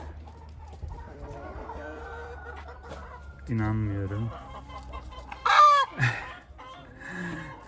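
Chickens in a backyard coop cluck and squawk in separate loud bursts, with one drawn-out call midway and a sharp cry shortly after, while someone talks between them.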